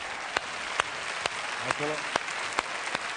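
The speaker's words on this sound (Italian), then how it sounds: "un grande applauso" Audience applause for a stage performer at a comedy show, a steady wash of clapping with a few louder claps standing out, while someone briefly speaks over it.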